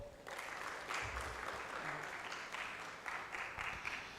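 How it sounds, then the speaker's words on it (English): An audience at the DataFest Africa conference in Kampala gives a sustained round of applause, fairly distant and even, with a low murmur underneath. "A big round of applause,"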